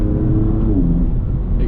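BMW M2 engine rising in a short rev blip during a downshift under braking, a close mid-pitched whir and rumble lasting under two seconds.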